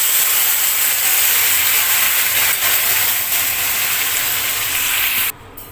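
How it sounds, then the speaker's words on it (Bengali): Hot water from boiling potatoes is poured into a pan of pointed gourd curry, making a loud, steady hissing sizzle that runs for about five seconds before cutting off abruptly. "এখন এই পর্যায়ে ঝোলের জন্য একটু জল দিয়ে দিচ্ছি।"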